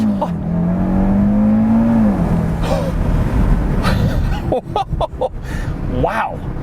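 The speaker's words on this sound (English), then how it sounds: "All right, so I'm gonna try launch control now." A 2018 Audi RS3 launches hard under launch control, its engine note rising steadily for about two seconds before a shift, then continuing under a person's excited exclamations and laughter.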